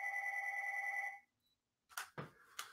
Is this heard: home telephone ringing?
yes